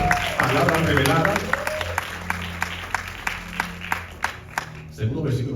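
Congregation in a church clapping and cheering after a sermon's call to applaud, a steady wash of applause with voices and shouts mixed in, fairly near and moderately loud throughout.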